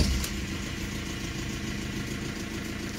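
An old BMW E46 with an airlocked cooling system runs just after starting, a steady close engine rumble with a brief louder surge at the start and no talking.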